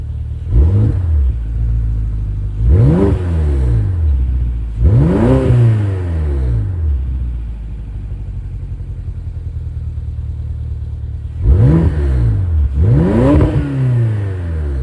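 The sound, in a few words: BMW X5M engine revving through stock exhaust with flaps open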